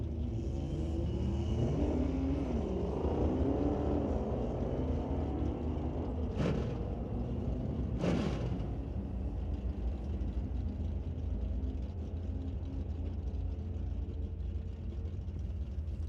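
Drag race cars at the NHRA Division 6 ET Finals at Mission Raceway Park, engines rumbling steadily and droning down the strip at a distance, with a couple of sharp louder bursts partway through.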